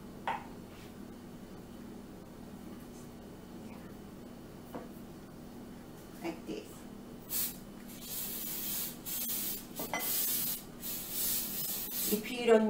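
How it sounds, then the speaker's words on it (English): Cooking oil from a spray can is misted lightly over breaded green tomatoes before baking, with soft hissing bursts that start faint and grow into several louder, closer sprays toward the end. "Before you put it in the oven, and you need to spray"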